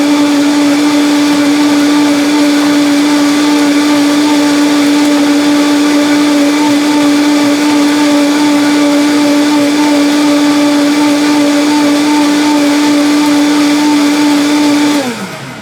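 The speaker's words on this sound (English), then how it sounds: "Just enough time to make sure those lime peelings are blended up very well." A blender whirs loudly and steadily, blending honeydew juice with lime peel for about fifteen seconds before the motor winds down at the end.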